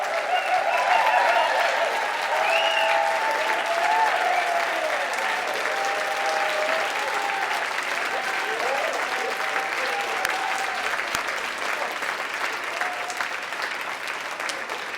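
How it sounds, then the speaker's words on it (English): A graduation crowd applauds for MSS and DSS graduates at a spiritual conference, with sustained, dense clapping and a few faint voices and cheers mixed in. "A round of applause for the grads, all of them, MSS and DSS."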